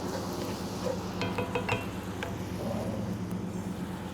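Worcestershire sauce hits a hot pan of Louisiana-style barbecue shrimp sauce, giving a steady close sizzle with a few light clinks and stirring scrapes, no talk.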